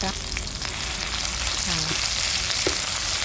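Hot oil in a frying pan sizzles steadily as Thai curry paste goes in for a spicy stir-fry of minced pork with pickled bamboo shoots, a loud continuous crackling hiss with a few faint clinks.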